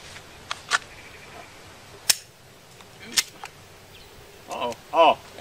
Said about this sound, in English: We're just gonna take a couple shots here.